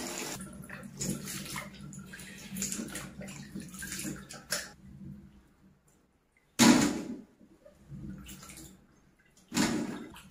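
Green plums are rinsed in clean water, with splashing and sloshing bursts that come and go, pause in near silence, then return as two sharp, close surges.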